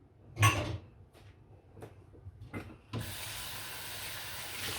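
Dishes being loaded into an empty dishwasher: a loud clatter, then a few lighter clinks and knocks, followed by a steady broadband rush that continues to the end, close by.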